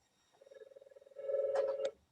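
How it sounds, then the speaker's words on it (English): A mobile phone goes off in an office, first with a rapid pulsing electronic tone and then with a louder steady tone broken by a few clicks. "I don't know how to turn off the phone"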